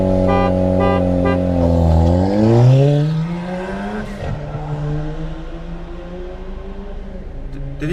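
A 345 bhp Ford Focus RS and a stage 2 tuned 240 bhp Fiesta ST launch side by side, engines revving hard with rising gear-by-gear pitch sweeps, loud and close, easing into a lower drone after a few seconds.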